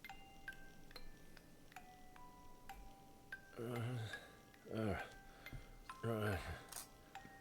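A music box in Tactics Ogre Reborn plays sparse, discordant plinking notes, faint and spaced out, while voiced lines break in now and then over it.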